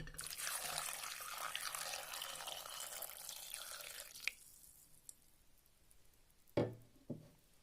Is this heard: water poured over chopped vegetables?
yes